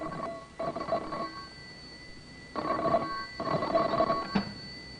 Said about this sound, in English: the telephone rang in John Davis's office